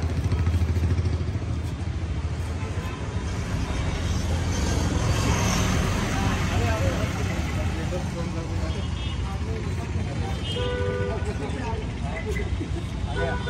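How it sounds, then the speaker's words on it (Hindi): A new Royal Enfield Bullet motorcycle ridden out of a dealership, its engine a low steady rumble amid street traffic noise, with people talking throughout. "फाइनली हमारे यहाँ पर बाइक निकल गया बाहर"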